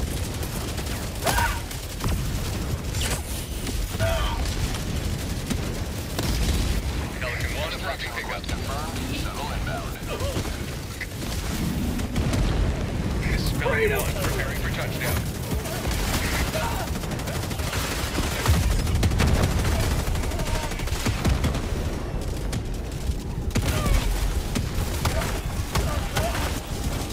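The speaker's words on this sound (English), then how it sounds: "Requesting air support! Attack underway!" Air support strike explosions and gunfire in the Helldivers 2 video game: a steady, dense barrage of shots and booming blasts that rolls on continuously, with people talking over the din.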